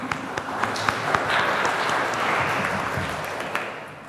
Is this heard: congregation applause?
yes